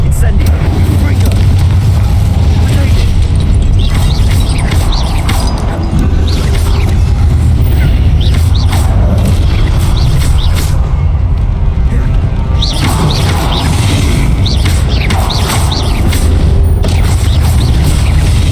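Incendio fire spell blasts in Hogwarts Legacy, loud booming bursts of flame repeating through a dense, constant wash of combat noise, with a voice calling out over it.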